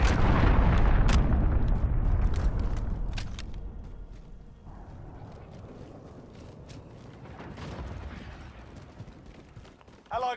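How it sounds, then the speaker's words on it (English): A cruise missile explosion in Call of Duty Modern Warfare, a loud, deep booming blast that starts at full force and slowly rumbles away over several seconds, leaving a low roar with scattered clanks and debris behind. "Enemy cruise missile incoming"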